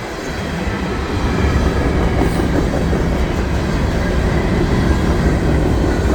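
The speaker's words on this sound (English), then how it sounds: "so this looks like it might be an empty hopper train." Norfolk Southern empty hopper train with two locomotives at the front rolling past nearby after rain, a loud, steady rumble and rattle of cars with a rhythmic clickety-clack continuing throughout.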